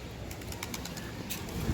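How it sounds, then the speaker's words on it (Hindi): Many pigeons cooing softly in the background at Budhanilkantha, Nepal, low murmuring calls amid light ambient noise, with a louder coo near the end. "देख रहे हो कितने कबूतर हैं गाइस"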